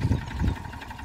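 A small Massey tractor engine running at a steady idle, close and fairly loud, with an even low throb and no surging or hunting.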